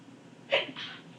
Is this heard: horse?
no